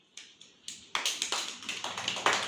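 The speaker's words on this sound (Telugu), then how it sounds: "పావని కూడా క్లాప్స్ కొట్టండి" Hands clap close by, starting with a few soft, separate claps and then building into a quicker run of sharp claps, about a dozen in all, with no talking.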